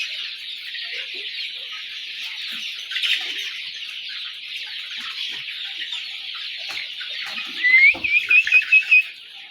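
A flock of 40-day-old Brown Cock chickens chirps and clucks continuously nearby in a thin, high chorus. A burst of louder, rhythmic calls and pecking sounds stands out near the end.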